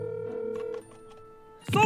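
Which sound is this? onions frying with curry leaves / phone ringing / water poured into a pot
phone ringing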